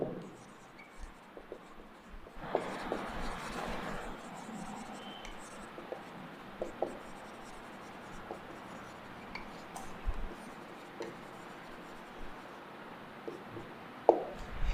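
Pen scratching on paper as notes are written out in columns for a chemistry lesson, soft intermittent strokes with a few sharper taps and a brief rustle, quiet throughout.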